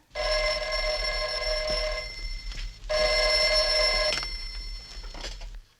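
A telephone rings in two long electronic bursts separated by a short pause, loud and close, with no voices.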